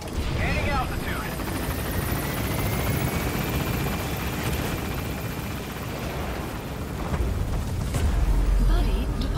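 A helicopter lifts off in the video game Metal Gear Solid V, its rotor and engine droning steadily and loudly throughout, with a deeper rumble swelling near the end as it gains altitude.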